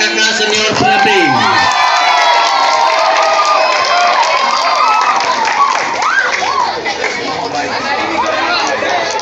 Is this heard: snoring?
no